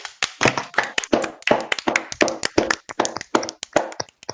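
Rapid hand clapping fills the clip as a stand-in for applause, a steady run of sharp, close, loud claps with no talking over them.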